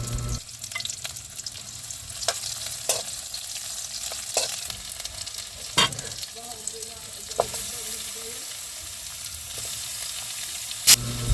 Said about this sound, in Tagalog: Bawang muna, then sibuyas. Yan, gisa-gisa lang natin hanggang mag-aroma siya.